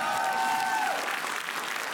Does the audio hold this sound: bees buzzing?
no